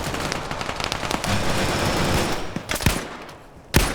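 Gunfire in Arma during a US Gulf War era Fallujah operation: a few sharp, close shots punch through a dense, noisy battle background, with one last loud crack near the end.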